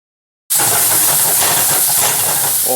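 Sliced cremini mushrooms dropping into a hot pan, a sudden loud, steady sizzle erupting after a moment of silence and continuing unbroken.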